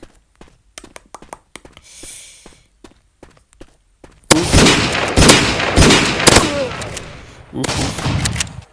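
Small handgun fire in the mobile first-person shooter MaskGun: sparse clicks and light footstep-like taps give way to a dense, loud burst of rapid shots and impacts, then another short volley near the end.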